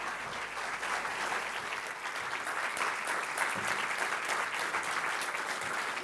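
A conference keynote audience at CMC 2025 keeps applauding: sustained, even clapping from a large crowd, steady and fairly soft throughout with no voices on top.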